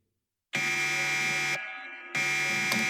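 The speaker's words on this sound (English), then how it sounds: "Isn't that the enclosure alarm?" An enclosure security alarm in a sci-fi audio drama blares as a loud electronic buzzer tone, sounding in two bursts separated by a brief dip in level, with no talking over it.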